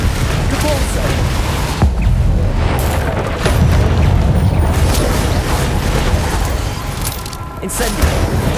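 Spell blasts and explosions in Hogwarts Legacy combat, a dense, loud, continuous barrage of booming impacts and crashes, with a voice shouting over the din.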